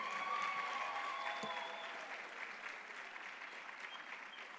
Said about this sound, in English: Can we have another round of applause for all our guests and for all of yourselves for waiting for them?